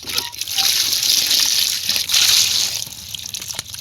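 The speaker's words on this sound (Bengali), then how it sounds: "এখন পটলগুলো সুন্দর করে ধুয়ে লমু।" Pointed gourds (potol) rinsed under running water, a steady close splashing stream from a tap with hand movements through it, loud and continuous.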